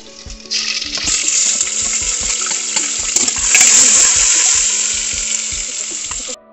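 Green chilies dropped into hot oil in a pan while cooking chole, giving a loud, steady sizzle that swells midway and runs continuously for several seconds before cutting off, with faint background clatter.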